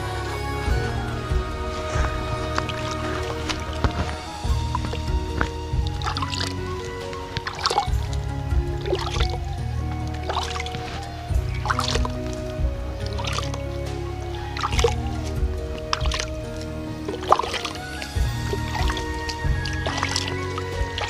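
Water poured onto a field bed of freshly planted potatoes and onions, a steady splashing and gurgling flow with squishy wet ground, broken by brief pauses and louder surges, heard close.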